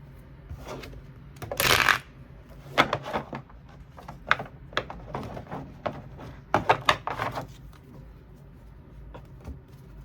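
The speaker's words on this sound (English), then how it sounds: "These cards are kind of hard to shuffle." Tarot cards being shuffled by hand, a burst of riffling followed by irregular soft slaps and shuffles, close and quiet with no talking.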